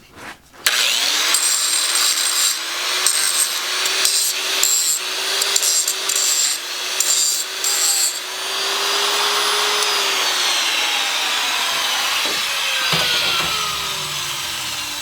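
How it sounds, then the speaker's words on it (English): An electric grinder cleaning scrap brass, a loud, steady whirring grind with scraping contact noise that rises and shifts in pitch as the metal is worked, starting after a brief clatter and running continuously without talk. "So we get this grinder here."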